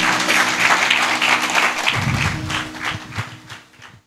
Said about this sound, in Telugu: అందరూ కూడా చప్పట్లు కొట్టండి ప్రియులారా.